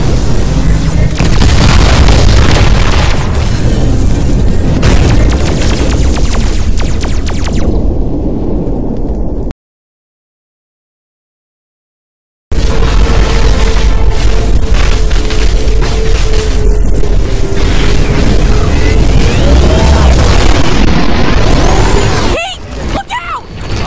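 Bombs blasting in the VR game Voltron: VR Chronicles, loud booming explosions over a constant roar, cut by a stretch of total silence, then more rumbling with a tonal hum and a sharp blast near the end.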